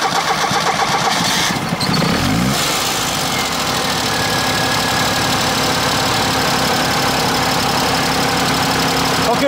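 A car fitted with a CNG gas kit cranks briefly and catches, then settles into a loud, steady idle that runs on close by for the rest of the stretch.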